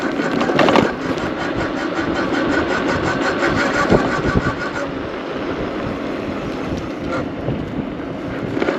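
Razor Rambler 16 electric dirt bike, upgraded to 72V 3500W, climbs a small hill outdoors with a continuous whining motor drone and rough rumbling from the terrain, fairly loud and close throughout.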